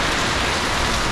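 Steady, dense tropical rain in Phuket, Thailand hisses close by across the whole clip, an even broadband wash with no voices.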